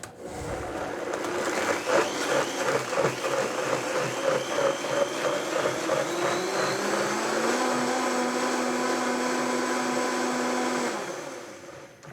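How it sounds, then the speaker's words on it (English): A food processor whirs steadily for about ten seconds while blending turkey sandwich filling, loud and close, pitch rising slightly as the mixture smooths, then stopping abruptly. "So we'll use a food processor here."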